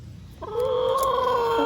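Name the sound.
chicken clucking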